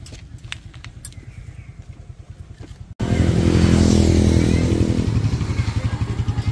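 A Yamaha Fazzio scooter rides through thick mud near a river crossing at Daraitan, its engine chugging in a steady low pulse before a sudden louder surge as it pushes through, clattering and straining throughout.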